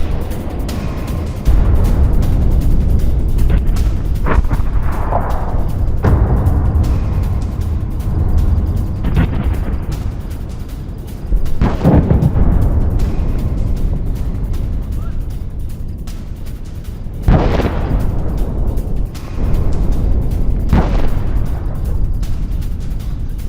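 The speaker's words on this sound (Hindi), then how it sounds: "यहां पर खान यूनिस पर नॉन स्टॉप बमबारी।" Bombardment explosions pounding Khan Younis, heard as a loud, continuous low rumble broken by several sharp, heavy blasts spaced a few seconds apart.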